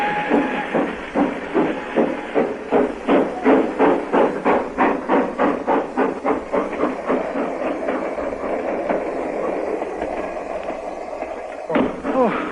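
Rhythmic train clatter, steady and fairly loud, with the chugging pulses of wheels over rails gradually slowing and thinning out before a sharp cut near the end, playing as a radio drama crime story effect.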